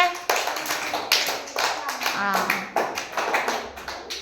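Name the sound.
students clapping for a classmate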